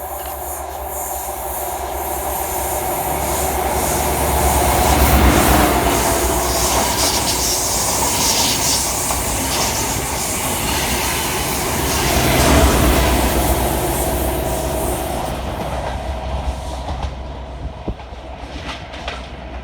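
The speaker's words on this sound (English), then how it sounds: "Passing fast through the station 13 minutes late is 43015 and 43032" Two Class 43 HST power cars, 43015 and 43032, rush through North Queensferry station on an Aberdeen to Edinburgh Waverley service, a loud sustained roar with wheel squeal and rail rumble that swells twice, then fades.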